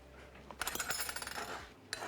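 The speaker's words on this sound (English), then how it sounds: "I will just" A whisk clinks quickly against a bowl while apple cider vinegar dressing is mixed, a short burst of light metallic taps, fairly faint and close.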